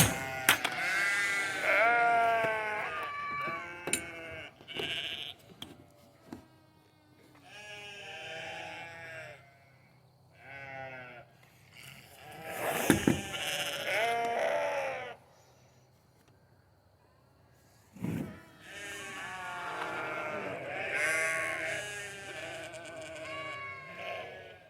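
Goats bleating in a farm pen at feeding time, many calls overlapping in loud, busy bursts with short quieter gaps between, the animals close by and clamoring.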